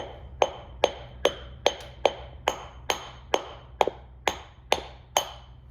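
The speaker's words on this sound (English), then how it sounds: "We're getting the oil seal out of the cover just with a simple socket and a rubber hammer." A dozen sharp knocks from a rubber hammer striking a socket to drive an oil seal out of a 1961 Rolls-Royce Silver Cloud II steering box cover, evenly spaced about every half second, close and clear over a low steady hum.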